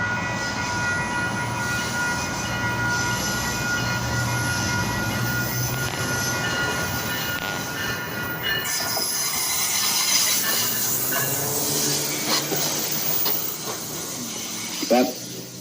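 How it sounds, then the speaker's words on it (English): A passing train rumbles steadily with hissing and squealing wheels, loud and close throughout, fading toward the end. "Here comes the train."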